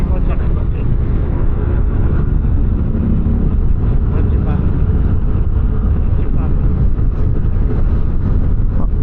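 A Suzuki Access 125 scooter engine runs steadily and loud throughout, a continuous close motor drone with road rumble, no clear gaps.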